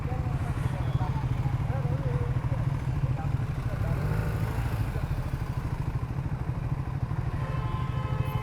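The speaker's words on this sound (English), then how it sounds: "So it's got a booming exhaust note." BMW 1300 GS Adventure motorcycle, a big 270 kg adventure bike, with a booming low exhaust note running steadily throughout, mixed with rumbling engine clatter and some talking over it.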